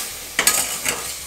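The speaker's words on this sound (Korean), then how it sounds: "볶아줍니다." Soju-marinated pork being stir-fried in a pot with a little oil for kimchi stew, giving a close, loud sizzle with two quick bursts of scraping and stirring, no talk.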